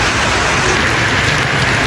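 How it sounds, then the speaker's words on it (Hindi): Heavy rain pours down loudly and continuously, a dense close hiss of drops hammering surfaces around a college campus in the valley, with no voices. "बारिश इतनी जोर की हो रही है"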